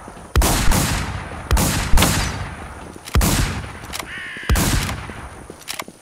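Four heavy shotgun blasts from a Mossberg in the WarZ video game, spaced about a second apart, each a sharp loud bang with a short decaying tail.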